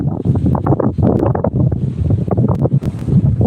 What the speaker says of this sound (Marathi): हे बघा वाऱ्याने झाडे कसे हलतायत